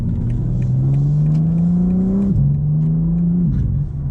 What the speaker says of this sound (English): I want to see if this has what the road noise would be